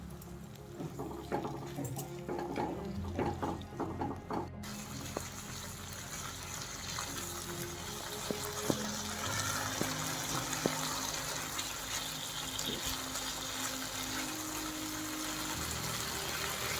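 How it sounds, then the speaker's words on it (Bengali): Water pours into a pan of frying spice paste and softened tomato for a Bengali rohu fish curry with potato and cauliflower, giving a steady sizzling, bubbling wash that runs the whole time with a few small clinks. "আমি এখানে অল্প একটু জল দিয়ে দেবো, জল দিয়ে আর একটু কষাবো"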